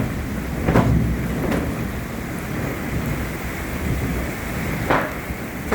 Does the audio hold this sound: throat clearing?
no